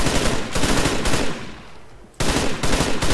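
Rapid automatic gunfire from a weapon in the game Arma III, loud and close, in dense bursts that pause briefly before resuming.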